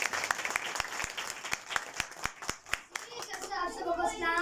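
A school audience claps steadily through a Christmas program, with rhythmic, close-up hand claps. Children's voices and chatter rise near the end.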